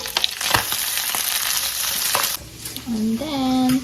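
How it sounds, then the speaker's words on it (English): Celery and broccoli sizzle steadily as they are stir-fried for a Filipino brunch dish, a close, dense frying hiss with scattered stirring clatter, ending with a brief high tonal squeak over the sizzle. "let's add the celery and broccoli"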